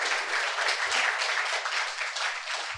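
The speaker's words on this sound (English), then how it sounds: "come on, clap." A room of people applauds at a startup talk, with continuous dense clapping at moderate level for the whole stretch and no voices over it.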